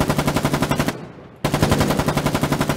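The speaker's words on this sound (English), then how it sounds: "They have a machine gun. That's a machine gun." Rapid machine gun bursts in the war game Foxhole, loud and evenly pulsed, break off for a brief gap before resuming at the same steady rate.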